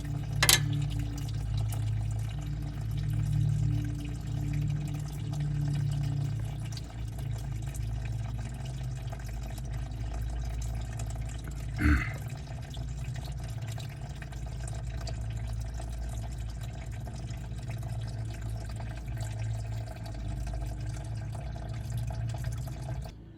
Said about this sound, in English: When I open this radiator cap, it's going to drain more.